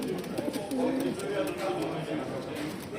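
Pigeons coo softly beneath steady nearby talking.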